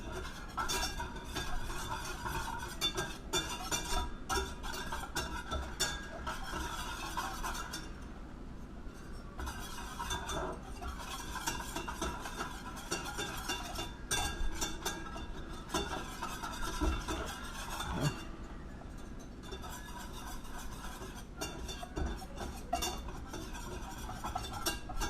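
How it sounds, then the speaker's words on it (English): A whisk scrapes and clinks steadily in a pan as flour is stirred into a roux, a faint, continuous metallic stirring with small repeated taps throughout. "we're going to mix in our flour a little bit at a time and whisk"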